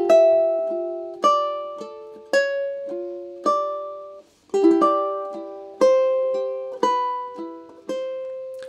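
Solo ukulele picking the opening two bars of the B section of a theme from The Legend of Zelda, a clear melody over light filler notes, about a dozen plucked attacks ringing out, close and alone.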